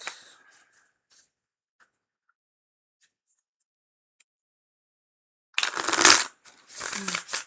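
Tarot cards being shuffled in two crisp, close bursts of riffling and rustling near the end, after several seconds of near silence with a few faint clicks.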